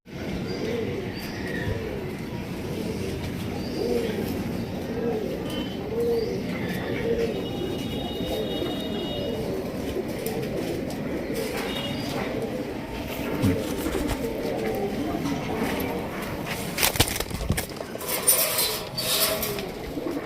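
Raj Golla pigeons, large red birds, coo in soft repeated rounded calls close by, with a few higher chirps and some rustling and knocking near the end, and no clear voices.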